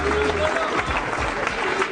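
A restless, unhappy crowd at the 2007 World Pool Championship, at a nine-ball match, fills the hall with a steady, dense wash of murmuring and scattered clapping that never lets up.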